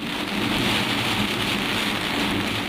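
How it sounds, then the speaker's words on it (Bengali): Heavy rain pours down steadily during a nor'wester storm in Dhaka, a dense, unbroken roar of water with a faint low rumble underneath. "মুষলধারে বজ্রসহ বৃষ্টি, সঙ্গে প্রবল ঝড়ো হাওয়া"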